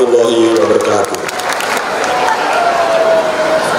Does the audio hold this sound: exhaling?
no